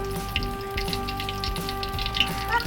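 Eggs fry in hot oil with a steady, close crackling sizzle and popping spatters, over a faint constant background hum.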